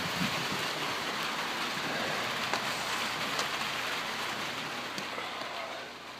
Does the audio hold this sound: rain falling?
yes